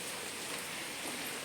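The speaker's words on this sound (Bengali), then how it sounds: "বৃষ্টিটা পড়ছে কি করে যেতে পারবো বলো তো?" Heavy monsoon rain falls steadily as a dense, even hiss of drops on surfaces, constant and fairly soft throughout with no voices.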